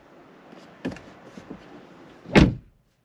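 A Ford Focus RS Mk3 door clicks open, followed by a short mechanical clunk of the exhaust valve cycling and a louder thud near the end, then quiet.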